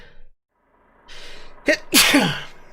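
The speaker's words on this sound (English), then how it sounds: "I'm gonna sneeze all over the screens now." A single loud sneeze, preceded by a sharp inhaled gasp, close to the listener after a brief quiet pause.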